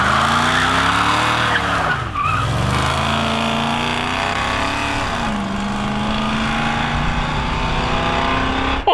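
A Dodge Challenger doing a burnout with its tires squealing and smoking: a loud, continuous screech over a roaring engine, close and sustained throughout, with the engine pitch shifting partway through.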